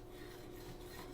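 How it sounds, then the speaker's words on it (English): Steady, continuous rasping of a knife blade sawing back and forth, close up and fairly quiet, with no talking. "we're just going to start sawing"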